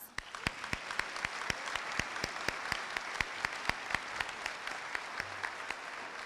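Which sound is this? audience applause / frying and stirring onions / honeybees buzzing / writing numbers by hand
audience applause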